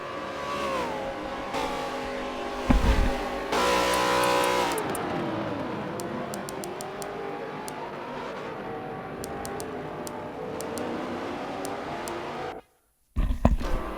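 Race car engines in a Cougars Cup video game race roar and rev continuously up close, with pitch swooping through gear changes and passing cars, then drop out briefly before resuming.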